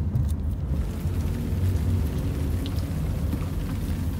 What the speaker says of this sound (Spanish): Y aquí ya está lloviendo poquito, miren. Ya está lloviznando.